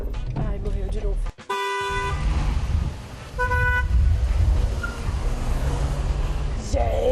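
Short car horn toots sound on a city street, where cars honk at a learner driver whose engine has stalled: one honk early on, a second shorter one in the middle, with traffic noise and people talking inside the car.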